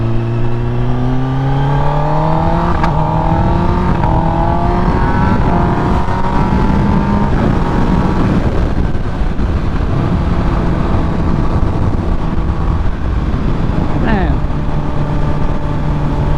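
A 2023 Kawasaki ZX-10R sport motorcycle accelerates hard during a ride, its engine note climbing through rising revs, loud and close, under steady wind rush.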